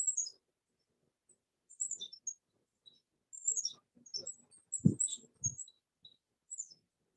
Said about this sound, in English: So I hope you can hear the lovely bird song in the background.